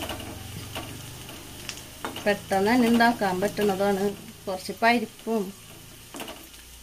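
Onions and spices sautéing in a pan for Kerala-style mango parippu curry give a steady, low sizzle and light stirring that runs beneath a person talking throughout.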